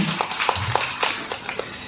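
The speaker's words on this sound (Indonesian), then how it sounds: "Wow, tepuk tangan Sumawi" Applause from an audience at a financial literacy talk, a moderate crowd clapping steadily with distinct sharp claps over a soft background, lasting briefly.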